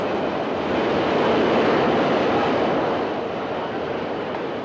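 A subway train rumbles past beneath a street grate, a loud, steady broadband roar that swells and then holds, with no voices over it.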